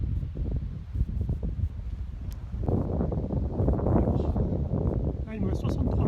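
Low, blustery wind buffeting a microphone on a golf course, rumbling and roaring steadily and growing heavier partway through, with no voices over it.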